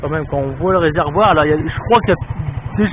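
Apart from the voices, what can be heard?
No everyday noises stand out.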